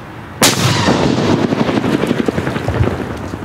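A firework banger goes off with one sharp, loud blast, followed by a long crackling, rumbling tail of debris and echo.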